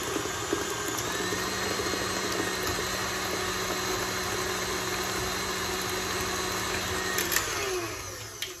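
An electric mixer whips bacon brownie batter at high speed, a steady close whirring motor drone that holds for several seconds and eases off near the end.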